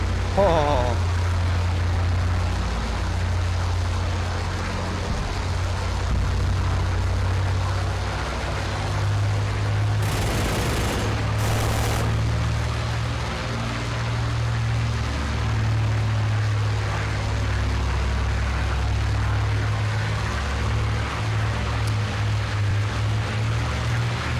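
A fighter bomber in a video game drones steadily with a low propeller-engine roar that stays constant, with brief louder bursts midway through and a voice talking faintly over it.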